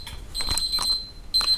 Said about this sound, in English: my timer is beeping at 0